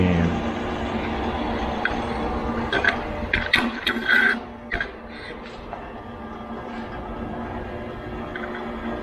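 A homemade DIY metal turning lathe running at higher speed gives a steady, fairly quiet mechanical hum with faint whirring tones and a few brief clicks and rattles partway through.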